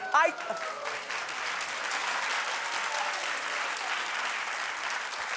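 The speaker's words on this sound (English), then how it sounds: "They clapped because she clapped." A talk-show studio audience applauds in a steady, moderately loud wash that holds evenly throughout, with a brief voice at the very start.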